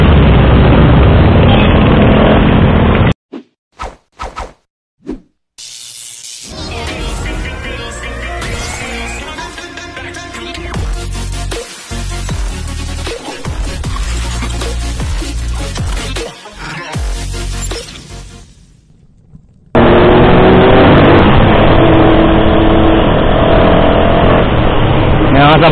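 A Suzuki Hayabusa sport motorcycle on a road near Antipolo roars past with a loud, rising engine rush that swells and fades over several seconds, bracketed by music before and after.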